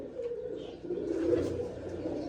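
Soft, low cooing of pigeons rolls on steadily, close by, with a faint murmur of background noise.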